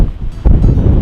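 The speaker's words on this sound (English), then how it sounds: "It's very windy. It's very unusual." Strong wind buffets the microphone on the coast at St. John's, Newfoundland, a loud, roaring rumble that surges sharply partway through the short burst, with no other sounds.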